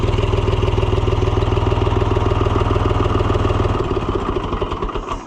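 An Oliver 1250-A tractor engine, leaking oil onto its clutch, runs with a loud, steady, close-up chugging idle that softens slightly near the end. No one talks over it.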